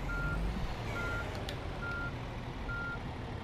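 A large vehicle backs up with four evenly spaced reversing beeps sounding steadily over a loud, rumbling engine and road noise.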